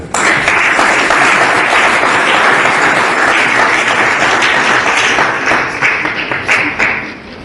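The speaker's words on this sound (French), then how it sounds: "Et si nous pouvons nous applaudir pour nous-mêmes" A large audience at a political gathering applauds loudly and continuously, dense clapping that holds steady before thinning and tapering off at the end.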